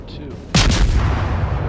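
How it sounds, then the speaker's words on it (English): Long-range artillery in the Verdun video game fires a single loud, close boom that trails into a rolling rumble, following a quieter stretch of battlefield ambience. "Got the long-range guns."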